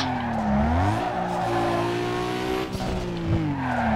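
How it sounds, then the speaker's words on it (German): A drifting car in Need for Speed Underground 2 gives a loud, sustained engine roar with rising and falling pitch and tire squeal, its blow-off valve whooshing as the revs shift. "Oh, ist so ein richtig brutales Ablassventil"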